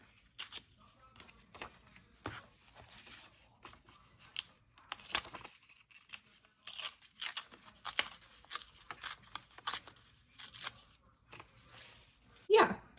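Paper is torn by hand along one side to make a ripped edge for a Hobonichi Weeks planner, producing a series of short, soft crackling tears and rustles at close range.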